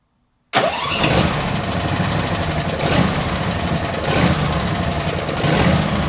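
An engine cranks and catches after a moment of silence, then settles into a loud, close idle with a rhythmic lumpy pulse.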